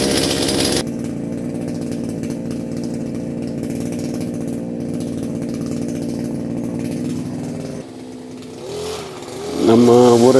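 A brush cutter's small petrol engine roars at a steady, loud drone after being started with its pull rope, then drops off and sputters before revving back up near the end; no talking.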